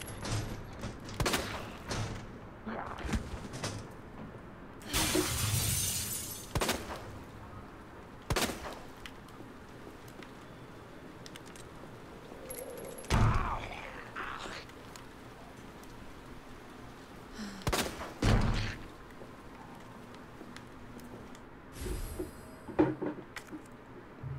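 Gunfire in the Resident Evil 2 remake, several sharp, loud shots spaced irregularly across a dark, noisy background with rain-like hiss, no talking.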